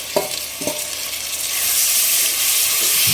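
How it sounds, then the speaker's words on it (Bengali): Onions for chicken biryani fry in a pan, giving a steady broadband sizzle that swells louder toward the end, with a couple of brief utensil taps near the start and no talk. "পেঁয়াজটা আমার লাল লাল হয়ে ভাজা হয়ে গেছে।"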